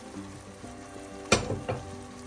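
Tomatoes sautéing in a pan for a Kerala-style kilimeen (pink perch) fish curry, a steady low sizzle broken by a couple of sharp stirring scrapes near the middle, close and alone without talk.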